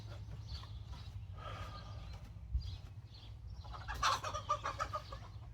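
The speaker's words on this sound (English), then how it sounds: "Oh man, chicken squabbles." Chickens squabble and cluck in a rural yard, a busy flurry of squawks rising toward the end over a steady low background rumble, moderately distant.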